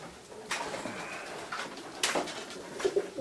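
Pigeons coo softly in a loft, a few low murmuring calls rising now and then over a quiet, slightly noisy background.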